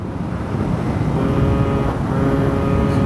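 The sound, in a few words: tuned Peugeot Kisbee two-stroke scooter engine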